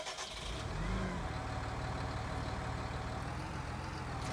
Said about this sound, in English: We've got a JCB fast track